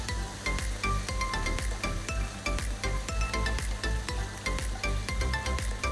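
Food sizzles steadily in a hot pan of oil while fried rice is cooked, a dense continuous crackle with scattered spatter pops and light stirring, close and loud, with no talk.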